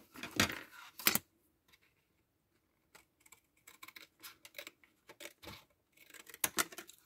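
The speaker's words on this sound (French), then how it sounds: "Pour couper droit." Material cut straight while making a small DIY case: close, quiet snips and scraping clicks in short irregular bursts with brief pauses between them, no talking.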